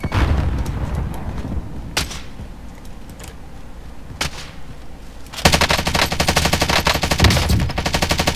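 Video game shootout gunfire rings out as sharp single shots early on, then bursts into loud, rapid automatic fire that continues to the end, with no voices.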